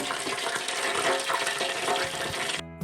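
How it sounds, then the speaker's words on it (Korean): Fat dripping to the bottom of an air fryer basket, sizzling and bubbling in a busy crackling hiss that carries on steadily before cutting off abruptly. "기름이 아래로 빠져서 끓는 소리 한번 들어보세요."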